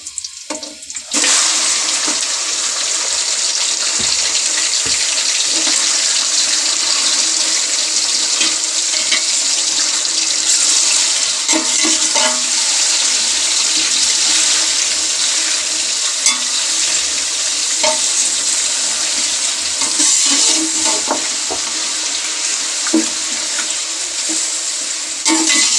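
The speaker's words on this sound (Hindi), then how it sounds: "गोश्त को 5 मिनट तक अच्छी तरह भून लेते हैं।" Beef sizzling hard with garam masala in a pot for degi korma, a loud steady hiss and crackle that runs on without letup.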